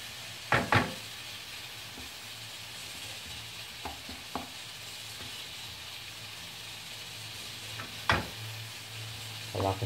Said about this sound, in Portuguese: vou fritar a cebola primeiro